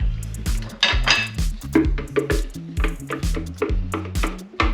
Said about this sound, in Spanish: tenemos aquí ya nuestra olla, volcamos el sofrito molido